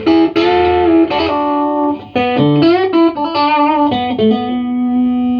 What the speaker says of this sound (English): little bit of reverb.